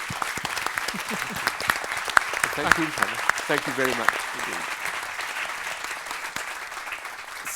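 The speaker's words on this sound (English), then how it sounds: "we'll thank you with a really warm applause." Warm applause from an audience at the launch event for the Human Development Report 2019, steady clapping throughout while a voice briefly speaks over it.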